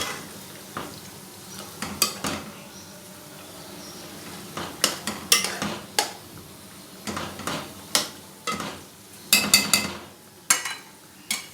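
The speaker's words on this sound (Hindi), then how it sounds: "2-4 मिनट इसको फ्राई करने के बाद इसमें जाएगा टमाटर, मिक्स कर लें" Okra and tomato stirred in a frying pan, heard as a soft background sizzle broken by clusters of scraping and clattering spatula strokes against the pan.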